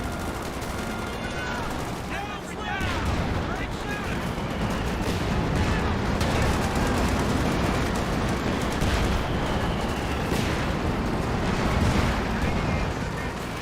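Artillery barrage in Company of Heroes 2 battle, a dense continuous roar of booming impacts and gunfire layered thickly over the whole stretch, with a voice commentating over it.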